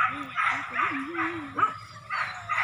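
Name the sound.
dogs barking during a bear hunt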